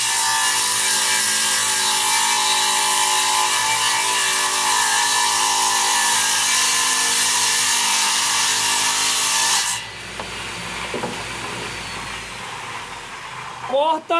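Homemade table saw driven by a three-phase motor cutting hard ipe wood, a loud continuous high whine and grinding rasp for about ten seconds before the cut ends and the motor winds down, with someone talking afterward.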